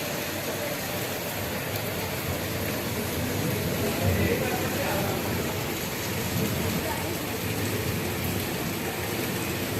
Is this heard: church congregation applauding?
no